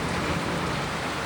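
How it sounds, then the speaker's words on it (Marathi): Heavy rain pours steadily during a weekly market outing, a dense, continuous hiss of drops drumming on surfaces close by, loud and unbroken with no voices. "म्हणजे भयानक पाऊस चालू आहे."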